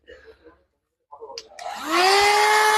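A small handheld vacuum cleaner switching on and rising to a steady high whine after a brief moment of talk, close and loud, ending in a continuous running drone.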